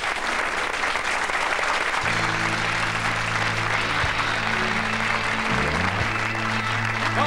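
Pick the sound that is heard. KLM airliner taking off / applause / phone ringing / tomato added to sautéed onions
applause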